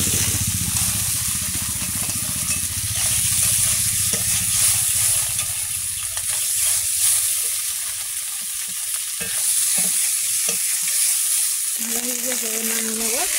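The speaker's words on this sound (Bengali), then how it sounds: "আজকে আবার একটু ভেজে নেবো।" Already fried fish pieces sizzle again in hot oil in a wok, a steady close crackling fry that runs unbroken throughout with occasional scrapes and stirring knocks near the end.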